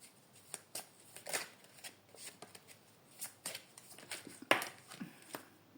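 Tarot cards being shuffled by hand in a quiet room, giving a series of soft riffling and slapping bursts with one sharper snap near the end, close and alone without talk.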